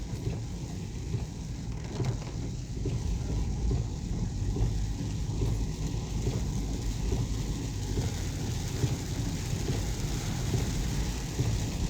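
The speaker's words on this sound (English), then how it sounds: "As you can see, there's a lot of rain." Heavy rain in Jamaica pours down in a steady, dense hiss that continues without a break.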